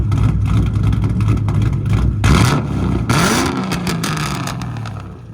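Straight-piped 2012 Audi TTS 2.0L turbo exhaust revving nearby, a deep droning idle with sharp rising blips and crackly chop as the throttle is blipped twice, then settling back down.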